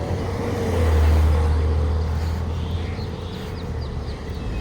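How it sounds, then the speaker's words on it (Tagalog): Steady road traffic on a Dubai street near The Greens: a continuous low rumble of cars and other vehicles, with one passing vehicle swelling louder near the start before settling back into the general roadway hum. "Tingnan nyo yung traffic dito."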